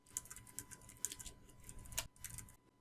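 Typing on a computer keyboard while working on a PowerPoint slide, a run of quick, light key clicks with a louder stroke near the end, moderately close and steady.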